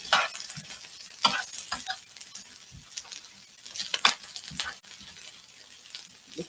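Peppers and onions sizzle and crackle on a hot griddle, with scraping and stirring taps from a spatula breaking through the steady frying hiss.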